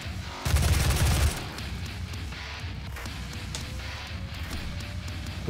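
Gunfire in the video game DOOM (2016): a loud burst of rapid shots opens, then gives way to quieter combat noise and a low, steady background.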